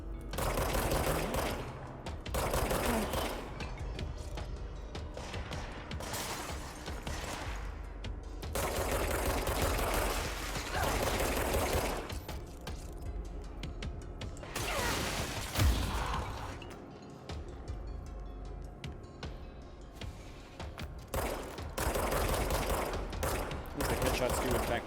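Rapid gunfire bursts in the video game Control, loud and sustained across the stretch, with dense volleys that briefly thin out before resuming.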